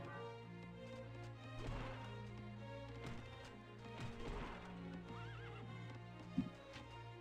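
Horses in a cavalry raid in a real-time strategy game whinny and neigh over clip-clopping hooves, set against steady background game music, with a sharp crash near the end.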